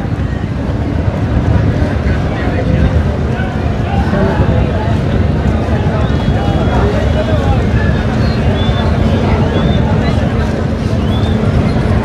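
The passenger launch Farhan 7, coming in from Jhalokathi, arrives at the Barishal launch ghat with a continuous low engine drone, wind and water noise, and crowd babble and talking over it.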